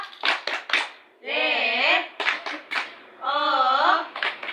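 A class of children performs a rhythmic prayer clap before a lesson, with bursts of sharp hand claps alternating with sung, chanted voices.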